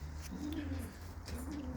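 A pigeon hen of a racing breed cooing nearby, low throaty coos rolling twice over a steady hum of background noise.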